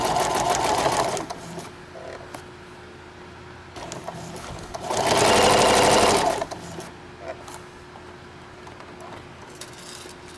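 A sewing machine stitching a placemat tote, running in loud steady mechanical whirring bursts with quieter pauses and clicks between them, close up.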